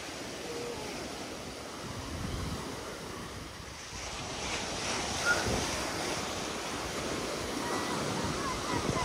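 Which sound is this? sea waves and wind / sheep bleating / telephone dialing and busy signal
sea waves and wind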